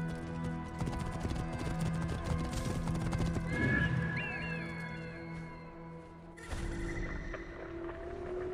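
Horse neighs and clip-clopping hooves from the Assassin's Creed Origins video game, a whinny rising clearly mid-clip over steady hoofbeats and ambient game sound.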